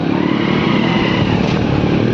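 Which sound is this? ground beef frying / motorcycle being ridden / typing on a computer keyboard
motorcycle being ridden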